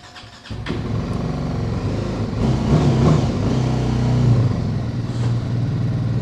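A motorcycle engine, a 310 model, starts weakly on a low battery, then settles into a steady low idle with a faint clatter, close by and alone.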